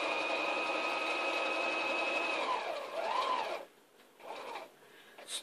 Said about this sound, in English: And then we're going to sew down.